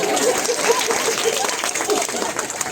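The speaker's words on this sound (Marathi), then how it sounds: "त्या माऊलींच्यासाठी जोरदार टाळ्या" Audience applause for the women contestants at a Ganesh mandal's paithani saree game show: steady, dense clapping from a crowd for a few seconds, with some voices mixed in.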